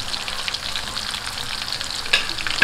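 Chicken pieces fry on a low flame in a pan with a steady, close sizzle that holds throughout, broken near the end by a couple of brief sharp crackles, with no voices.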